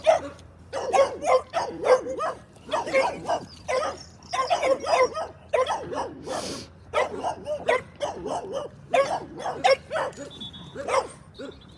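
Several dogs bark repeatedly nearby, rapid bursts with yips and a whimper mixed in, loud and close, with a person talking briefly.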